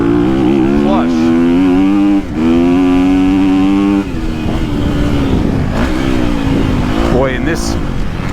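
A 2023 KTM SXF 250 dirt bike revs hard through soft terrain, its engine note climbing and falling in sustained high-rpm pulls with a brief dip midway, loud and close, with a voice speaking over it.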